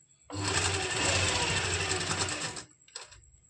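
Sewing machine running steadily for about two seconds while stitching a lock seam on a kameez, a loud continuous whirring hum, then stopping with a couple of brief clicks at the end.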